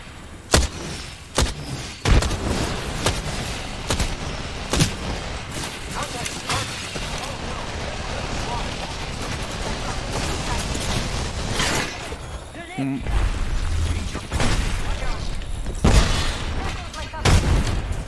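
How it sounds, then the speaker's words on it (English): Frag grenade blasts and gunfire in the Apex Legends video game, with repeated sharp booms and shots scattered through a dense battle mix, while voice callouts run over the action. "Frag out."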